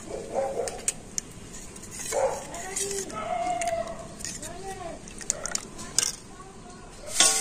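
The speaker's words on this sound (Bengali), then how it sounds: "তো এবারে জল দিয়ে সমস্ত মশলাগুলো খুব ভালো করে আমি গুলে নিচ্ছি" Spices with ginger paste and a little water are stirred with a spoon in a pot, giving soft scraping swirls and light metallic clinks, while someone talks over the kitchen noise.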